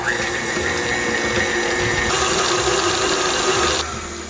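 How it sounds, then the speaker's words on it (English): A stand mixer with a whisk attachment runs on medium, beating butter and cream cheese for red velvet cake frosting, a continuous loud motor whir with a faint whine that drops in speed near the end. "we are going to use our whisk attachment. Put it on medium until the butter and the cream cheese are incorporated"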